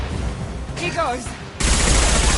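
Gunfire in the video game Mass Effect 2 comes as a dense, loud burst of shots at close range, with a voice calling out briefly just before the firing.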